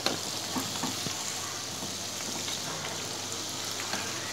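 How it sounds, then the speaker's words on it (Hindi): Crispy onion pakoras fry slowly in oil over low heat, a soft even sizzle and faint bubbling crackle with scattered small pops, continuous and moderately quiet with nobody speaking. "ये देखिए कैसे धीमी आंच पे हमारे कैसे पकोड़े सेक रहे हैं।"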